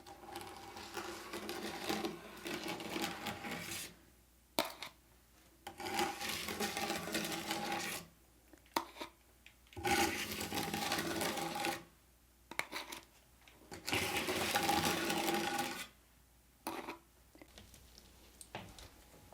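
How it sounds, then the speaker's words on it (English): A scraper drags over paint on a wooden dresser in repeated strokes of one to three seconds, each a rough rasping scrape with short quiet gaps between. The strokes sound close and moderately loud, with no talking. "now I'm going to scrape everything that is extra off"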